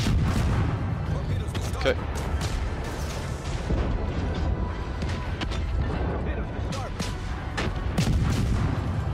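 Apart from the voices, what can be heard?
naval gunfire from friendly ship, from video game World of Warships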